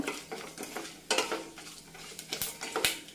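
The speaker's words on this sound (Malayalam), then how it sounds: "പിന്നെ ഇഞ്ചിയും പച്ചമുളകും നല്ലപോലെ ഒന്ന് ഇളക്കി കൊടുക്കണം" A metal spoon scrapes and clinks against a pan while stirring ginger and green chillies for lemon rice, irregular close scraping strokes and sharp taps over a faint sizzle, no talking.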